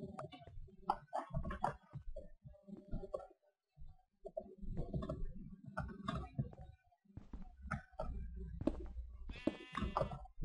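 Video game sheep give short bleats at intervals, faint and scattered, with a clearer cry near the end and little else around them.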